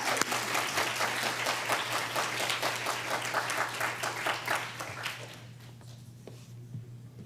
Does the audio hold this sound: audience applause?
yes